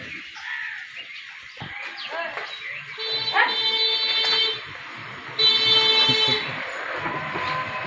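A busy market din of chirping and cawing birds with occasional dog barks, voices murmuring underneath, and bursts of high, buzzy calls.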